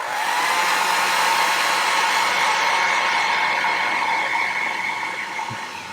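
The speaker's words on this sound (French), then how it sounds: "pour accélérer le séchage, je prends mon sèche-cheveux" A hair dryer blows on a freshly painted Berserker miniature, a loud, close, steady whooshing roar with a whining tone that holds for several seconds and then tapers slightly as it winds down.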